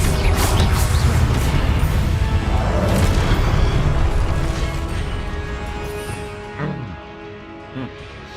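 A Confringo blasting spell goes off in Hogwarts Legacy, a loud, dense explosive burst at the start that rumbles and fades over several seconds, with smaller crackling game effects afterward.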